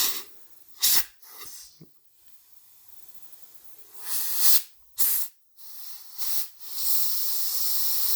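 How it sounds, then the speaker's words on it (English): Compressed air is blown in several sharp, loud hissing bursts into a damaged oil pipe from a Kromhout Gardner 2LS engine during a leak test, with quiet pauses between blasts. "and we're just going to blow it up with some air."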